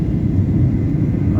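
An airplane comes in to land at Sydney airport over the beach at Kurnell, a loud, steady low rumble that fills the short stretch with no break.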